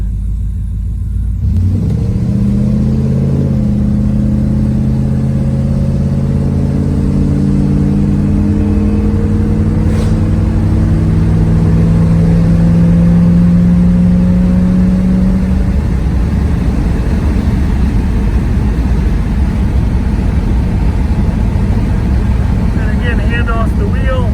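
A 1966 Chevy Impala's engine revs as the car accelerates on a test drive, a close, steady rumble with a pitch that climbs and falls over several seconds before settling into a smooth cruising drone.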